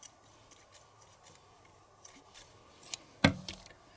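Yarn being cut near a Clover Flower Loom, heard as one sharp scissor snip about three-quarters through, close and fairly quiet, with faint small handling ticks around it in a quiet room.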